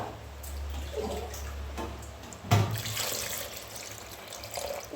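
Water runs from a tap into a bowl of chopped potatoes being soaked for pani puri at home, a close steady pour with a brief louder splash midway.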